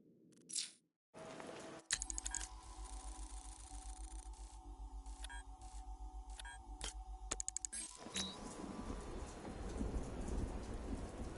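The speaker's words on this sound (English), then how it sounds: "What's with all the rain?" Steady rain falling in the video game Batman Arkham Knight, a constant hiss of drops on surfaces mixed with game effects and tones that cut in and out, then rain swelling louder alone.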